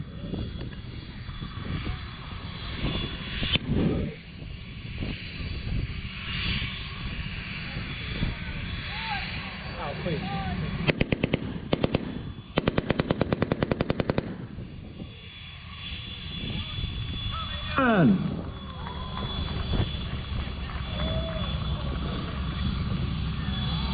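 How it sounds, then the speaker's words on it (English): An automatic Tommy gun (Thompson submachine gun) is fired at an outdoor military weapons demonstration in a few rapid, crackling bursts. The shots sound somewhat distant, over a steady drone of aircraft engines and people talking. "Who's ready to hear a Tommy gun?"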